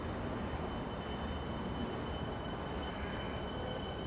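A suburban train rolls through Richmond station, a steady, loud broadband rumble of wheels and carriages running continuously without a break, with no voices.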